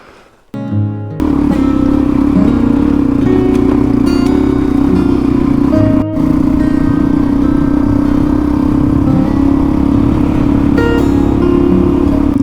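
A motorcycle engine drones loud and close at a steady cruise on a Blue Mountains road in Australia, with wind rush, a brief dip near the middle and no voices.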